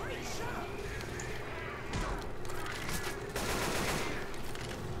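Rapid gunfire in Left 4 Dead 2 aimed at a forklift, dense and continuous throughout, with a voice talking over the shooting.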